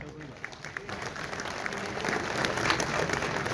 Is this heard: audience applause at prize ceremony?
yes